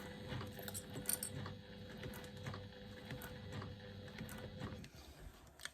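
Sewing machine running slowly through top stitching on a small zippered pocket, a soft steady mechanical rattle of fine ticks, close and quiet with no voices, stopping near the end.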